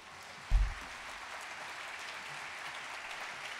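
Faint applause from a concert audience welcoming a singer, starting with a brief low thump and continuing as a soft, steady patter.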